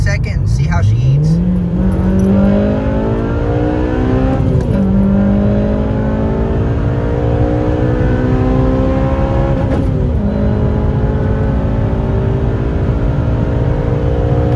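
A car engine under a hard pull, revving up through the gears in a loud, continuous rising drone with brief shift dips, close and steady throughout with no talk.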